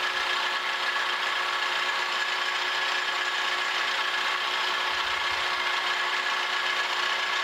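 Machine cutting a slot in a metal motor mount during a metal planer restoration, a steady, even grinding hiss with a faint tonal whine holding constant at close range, no voices.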